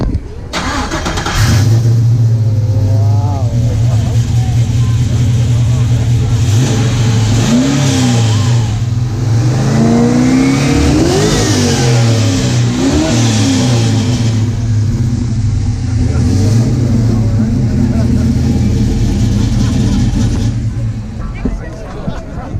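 A 1957 Chevy Bel Air with a restored exhaust fires up and revs repeatedly, its loud, rumbling engine close by, with a crowd murmuring and voices chatting underneath.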